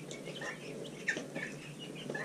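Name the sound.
small ornamental chickens clucking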